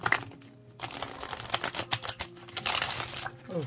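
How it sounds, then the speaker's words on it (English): A deck of glossy high-foil tarot cards is shuffled by hand, giving quick crisp riffling and slapping clatters in short bursts with brief pauses, close up and fairly loud. "Here are the high foil ones. I'll shuffle these for you."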